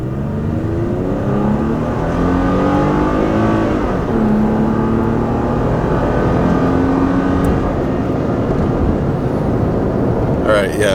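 A tuned Toyota Tacoma pickup, a 3rd-generation truck, takes off and accelerates with a steady, loud engine drone whose pitch climbs through the gears, rising and resetting at shift points, under the steady rush of road and cabin noise.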